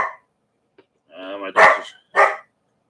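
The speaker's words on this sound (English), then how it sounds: "dog's kind of trapped in my room right now" A dog shut in a room gives a short whimpering, harmonic vocalisation followed by two sharp barks, close and loud, with near silence between.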